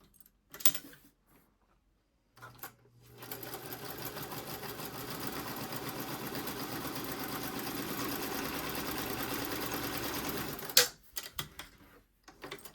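A vintage Pfaff 130 sewing machine fitted with a new motor and pedal runs steadily for about eight seconds, a close, even mechanical whir and rapid clatter, framed by a few clicks before and after.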